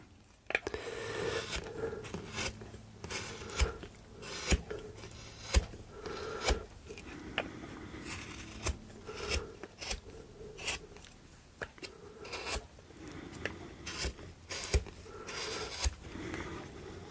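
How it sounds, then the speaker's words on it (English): A wood gouge pushed in small forward strokes while carving a wooden cowboy figure, a close series of rasping scrapes and shaves repeating every second or so, with faint background noise between strokes. "pushing the gouge forward. In small strokes."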